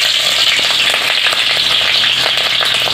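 Green chillies sizzle loudly in hot oil in a home kitchen, a steady dense crackle with scattered sharper pops running through the whole stretch, no voices.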